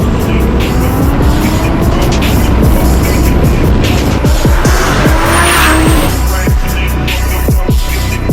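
Supercars, including a Lamborghini Aventador, an Audi R8 and a McLaren 720S, run hard on a highway. Loud, close engine roars rise and fall through rapid revs and gear changes, with sharp pops and squeals.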